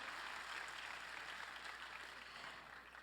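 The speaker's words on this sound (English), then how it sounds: "Get a big round of applause." Applause from a conference audience at an opening plenary session in Jakarta: a steady, dense wash of many hands clapping at a distance, holding level for about three seconds with no talk over it.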